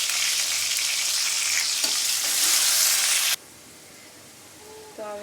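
Garlic frying in hot oil, a loud close sizzle for about three seconds that cuts off abruptly into quiet, with a faint clink near the end.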